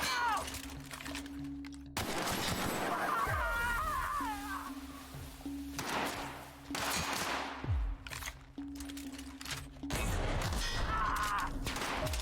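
Gunfire from a short-range gun in The Outer Worlds video game: repeated loud, dense blasts in several clusters over continuous game background sound, with no clear gaps of silence.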